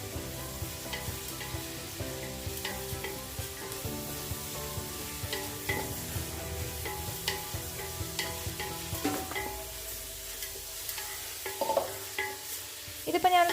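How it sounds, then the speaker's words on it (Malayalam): Onions sautéing with rock salt in a pan on the stove while cooking a chicken kurma, a steady close sizzle with scraping stirs and occasional utensil clinks, no voice. "നല്ല പോലെ വഴറ്റിയെടുക്കണം ഉള്ളി."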